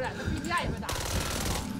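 Rapid bursts of automatic gunfire from the zombie shooter Back 4 Blood, dense and continuous through the second half, with voices talking over the shooting.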